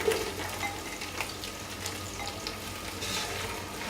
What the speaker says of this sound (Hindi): ऑयल गर्म हो गया, हम प्याज डालेंगे।